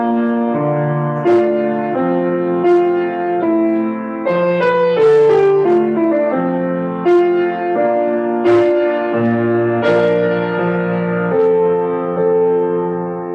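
A recording of the opening phrase of a Renaissance polyphonic piece plays, with several sustained interwoven voices moving through chords at a steady, moderate loudness and no speaking over it.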